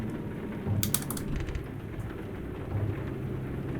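Steady, dense rain hisses continuously over a low truck engine rumble in Euro Truck Simulator 2 on a Colombia map, with a few brief clattering bursts near the start.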